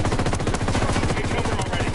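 Rapid automatic gunfire from a Ghost Recon video game battle against Santa Blanca forces, loud and continuous for the whole stretch, with a dense rattling rhythm of shots.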